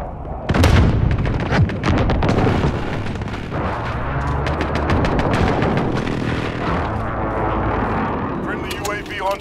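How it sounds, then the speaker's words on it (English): Video game firefight with heavy gunfire, machine-gun bursts and booming airstrike explosions, loud and continuous throughout, mixed with radio-style voices talking over the combat. "Precision airstrike on the way."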